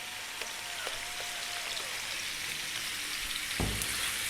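Lamb meat seasoned with black pepper fries in a pan over medium heat, a dense steady sizzle like light rain, with a single clunk of the pan partway through.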